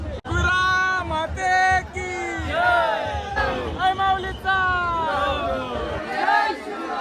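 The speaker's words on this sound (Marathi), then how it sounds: "डोंगरावरची गर्दी बघा गर्दी खाली उतरताना" A large festival crowd coming down a hillside during a palanquin procession, with dense close chatter, shouts and whoops from many voices overlapping continuously.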